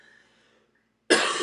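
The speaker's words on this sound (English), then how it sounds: "I apologize that I'm still coughing." A single loud, harsh cough bursts out after about a second of near silence, preceded by faint low murmuring, from a person recovering from smoke irritation.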